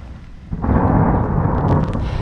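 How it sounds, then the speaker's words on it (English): Rain starting to fall during a storm over a road near a dam, a broad steady wash of noise that swells after the first half second with low thunder rumbling underneath and no talk. "Now it's starting to rain."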